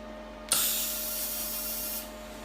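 A single short welding tack is made on parts of a Colchester Bantam lathe: a bright, steady hiss starts abruptly, lasts about a second and a half, then cuts off, over a faint constant electrical hum.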